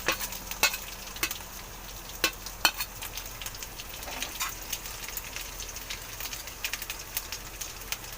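Finely chopped green chilies and grated ginger fry in a pan with a constant soft sizzle, punctuated by sharp scrapes and taps of a spoon stirring.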